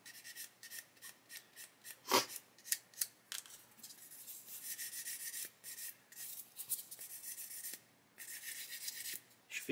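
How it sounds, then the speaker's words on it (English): Nail file rubbing a sprue nib on a small Airfix 1/72 plastic model aircraft part, close and fairly quiet, a series of quick rasping strokes in uneven rhythm with one sharper scrape. "that side of the nail file will polish as well"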